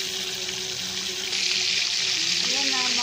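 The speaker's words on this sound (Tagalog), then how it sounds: "Una, prito mo ang isda." Fish fries in a pan, the first step of a Filipino home-cooked macbus fish and cheese dish. The oil sizzles and crackles continuously, growing slightly louder partway through, while a voice talks faintly over it.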